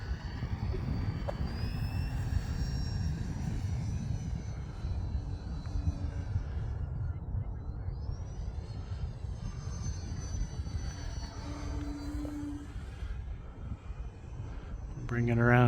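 Model airplane flying overhead in gusty wind, its engine droning steadily and loudly throughout, rising and falling in pitch as it passes and banks, with wind noise mixed in.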